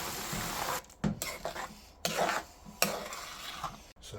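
Garam masala being stirred into a pot of black dhal, with repeated scraping and rubbing strokes of a spoon against the pan, broken by brief pauses, close and fairly loud.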